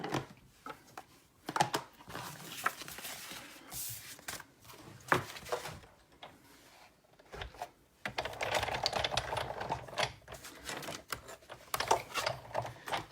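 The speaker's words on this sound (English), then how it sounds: "So now I'm just gonna bring in the Big Shot so I can cut everything out." A Big Shot die-cutting machine cuts paper with irregular clattering and ratcheting clicks, bursts of crank-driven mechanical rattling separated by brief pauses, close and fairly quiet.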